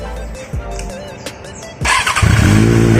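A QJMotor 600RC motorcycle fitted with an Akrapovic M2 exhaust rumbles at idle, then fires up loudly near the end into a strong, steady engine roar.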